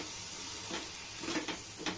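Tomato gravy for dhaba-style dal tadka fries quietly in a pan with water added, giving a soft, continuous sizzle with a few brief stirring scrapes.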